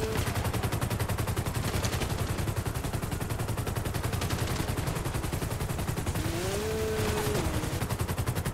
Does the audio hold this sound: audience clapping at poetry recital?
no